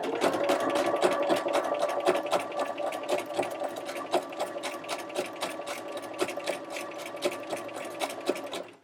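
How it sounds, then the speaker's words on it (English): A sewing machine with an overlock foot stitches along a fabric edge, its needle wrapping the edge on every stitch. It runs at a steady fast clatter, close and continuous, with rapid even ticks throughout. "then the needle is going to come down and wrap the edge on every stitch"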